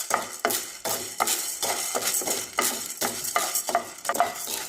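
Spices for bitter gourd podi are stirred in an iron or nonstick pan as they fry, a spoon scraping the metal in regular strokes roughly twice a second, with a faint sizzle beneath and no talking.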